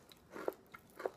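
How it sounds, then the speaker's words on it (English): Cape Cod potato chips being bitten and crunched close to the mouth, two crisp crunches with faint chewing between them, quiet and alone. "I like Cape Cod. They're very greasy and crunchy."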